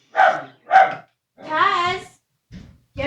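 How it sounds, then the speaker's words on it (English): A dog barks at a window indoors: two sharp, close barks, then a longer whining yelp and another bark after a short pause. "get over here and stop barking in the window."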